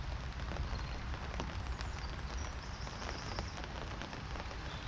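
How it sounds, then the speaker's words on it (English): Heavy rain pours steadily over a vegetable garden, a dense, even hiss of drops without pause, fairly close and unbroken throughout. "Wow, look at that rain now."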